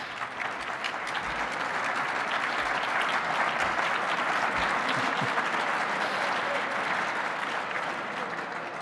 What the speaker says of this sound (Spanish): El aplauso no hace falta para mí